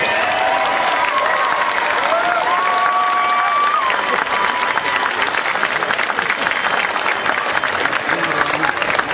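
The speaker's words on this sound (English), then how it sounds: "Something we can all applaud for." An audience at a public event applauding with dense, loud, sustained clapping and some crowd noise, lasting throughout with no letup.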